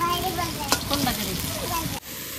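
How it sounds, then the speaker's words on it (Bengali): Koftas frying in hot oil, a continuous sizzle and crackle with occasional stirring clinks, heard under a child's and an adult's conversation before the sound cuts abruptly near the end. "কোপ্তাগুলো একদম হালকা আছে ভেজে নিতে হবে, তাহলে ভিতরটা ভালো ভাজা হয়ে যাবে"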